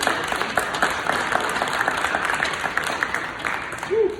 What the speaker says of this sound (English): Mr. Carson Forbes, can you clap it up?